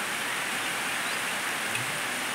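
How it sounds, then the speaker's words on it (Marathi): Steady rain falling outdoors near a house, a dense even hiss with no distinct drops, moderately loud and unbroken throughout. "आज लवकरच पाऊस आला आहे."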